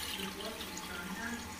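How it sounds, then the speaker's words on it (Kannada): Water runs and splashes into a kitchen vessel in a soft, steady trickle, faint and brief. "ನೀರು ಹಾಕ್ಕೊಂಡ್ಬಿಡ್ತಾರೆ."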